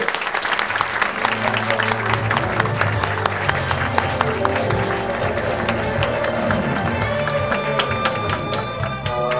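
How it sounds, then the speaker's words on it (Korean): Sustained applause from an audience greeting a student speaker at a school ceremony, dense steady clapping throughout with faint crowd murmur, fairly loud and close. "우리 박수로 환영하겠습니다"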